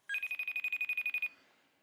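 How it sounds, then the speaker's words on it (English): A telephone rings in a rapid trilling burst of about a dozen pulses, clear and fairly close, then stops and fades out, no voices. "let's see if Casey will answer the phone"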